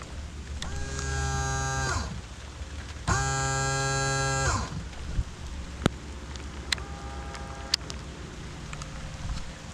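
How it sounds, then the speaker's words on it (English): An electric bilge pump in a Hobie kayak switched on manually, giving a steady whining buzz in two bursts of about a second and a half each, then a fainter, shorter run with a few clicks. "We got the bilge pump wired up on manual mode"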